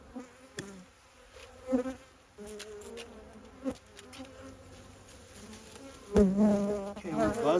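Honeybees drone steadily around an opened backyard hive during a first inspection, close and continuous, with individual bees whizzing past and louder swells near the end.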